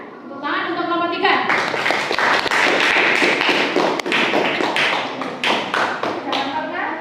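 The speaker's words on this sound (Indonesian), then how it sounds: "Tepuk tangan untuk kelompok 3." Students in a classroom clap for a group that has just finished its presentation. The applause starts after a brief moment of talk and continues as a loud, busy patter mixed with children's voices.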